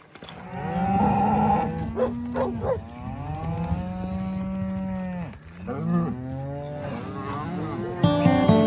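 Cattle on a Colorado ranch moo in fall, with several long, loud, drawn-out lows following one another close by. The calls overlap in places and hold steady without any talk.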